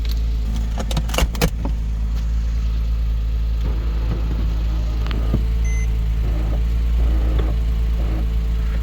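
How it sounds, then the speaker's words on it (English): A Porsche Boxster convertible idles at a steady low drone, with a jangle of keys and a few clicks close by near the start. "So the car is running"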